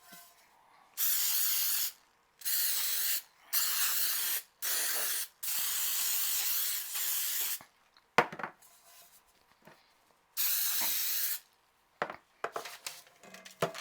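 Several bursts of baking spray hissing into a cake pan, each lasting about a second or two with short pauses between, followed by light clinks and handling noises.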